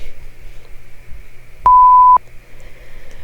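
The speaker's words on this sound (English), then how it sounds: "we're waiting for this next rest timer to run out" A workout rest timer in an off-ice training class gives a single steady electronic beep lasting about half a second, loud and clean over a faint hum.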